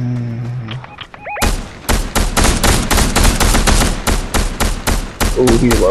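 Rapid bursts of video game gunfire crack out loudly after a brief quiet, with sharp repeated shots in quick succession, and muffled game sounds before them.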